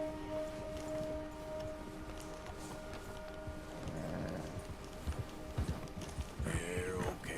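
An agitated horse spooked by a bear in Red Dead Redemption 2, its hooves clopping and shuffling under tense game music, ending with a snort or whinny-like burst, moderately faint.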